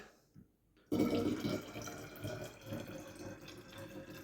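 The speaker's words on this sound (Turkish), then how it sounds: "bir de biraz daha üstüne su koyacağım" Water from a tap pours into a SodaStream bottle, a steady close gush that starts abruptly after a quiet moment and keeps running with no talk.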